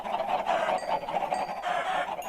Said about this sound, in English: Kill the chickens, kill the chickens.